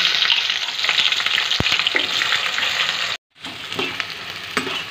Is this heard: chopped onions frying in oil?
yes